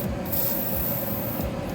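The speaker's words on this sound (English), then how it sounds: "I'm gonna spray it a couple times" Spray paint hissing onto an MG 1100 model car body, a continuous close hiss running steadily with slight dips in intensity.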